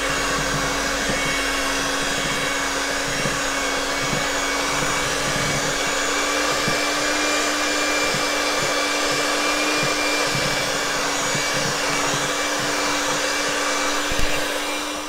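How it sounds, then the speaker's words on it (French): An electric hand mixer beating banana fritter batter whirs steadily and loudly for the whole stretch, a constant motor drone with a faint rhythmic knocking of the beaters against the bowl. "maintenant, je vais mélanger tout ça à l'aide de mon batteur."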